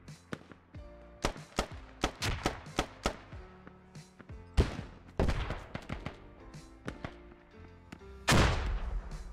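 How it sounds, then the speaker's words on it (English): Mortar rounds land around the player in the military shooter Squad, a string of sharp, loud impacts and blasts at irregular intervals, some close and heavy, others quicker and scattered, with a big blast near the end. "we're hearing some mortars"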